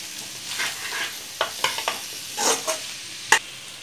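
Masala for Kerala-style mango pickle is stirred in a pan: a soft sizzle carries several sharp, close scrapes of a spoon in an uneven rhythm, with no voices.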